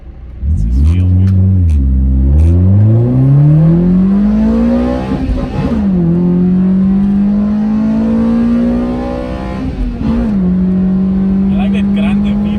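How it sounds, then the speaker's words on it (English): Toyota Altezza with a 3S-GE Beams engine revving, loud and close: the engine climbs through the revs, drops at two gear shifts and holds a gritty, grunting tone in between, with someone talking over it. "I like that grunt that Beams gives"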